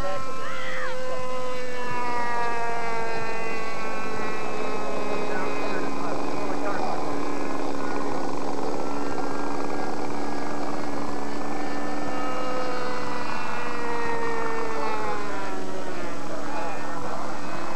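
A small model airplane engine runs continuously at high pitch, its whine rising and falling in tone as the throttle changes, loud and close throughout.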